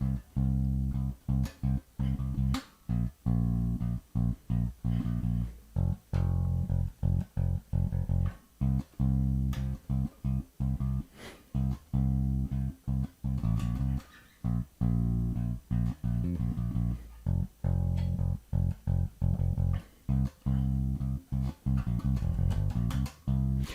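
Bass guitar playing a part with little flourishes, a steady run of plucked, punchy low notes with quick fills and slides, close and fairly quiet.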